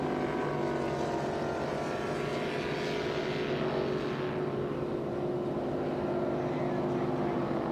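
A Velocity V-bottom race boat engine drones at high speed on the water during a powerboat shootout, a steady, sustained roar with a slight pitch shift as it passes, moderately distant and with no talking over it.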